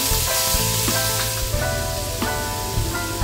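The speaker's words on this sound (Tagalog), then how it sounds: "Magsusutay na tayo ng bawang." Garlic sautés in a hot pan for pork adobo, a steady sizzle with a few scraping stir sounds over a constant tone in the background.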